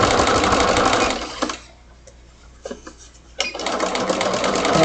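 A sewing machine stitches slowly close to a fabric edge, loud and near, with a steady whir that stops for about two seconds and then resumes.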